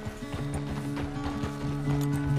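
Horse hooves clip-clop in a steady, fairly close trot in the Red Dead Redemption 2 video game, with a low droning hum running underneath.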